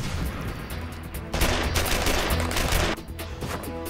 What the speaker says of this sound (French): J'ai commencé avec le pistolet mitrailleur original, le Thompson.